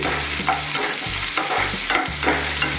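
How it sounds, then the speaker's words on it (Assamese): Onions frying in a pan for stuffed bitter gourd in an Assamese dish, with steady sizzling and several scraping stir strokes at a regular pace, heard alone without speech. "পিঁয়াজখিনি আধা ৰঙচুৱাকৈ ভাজা"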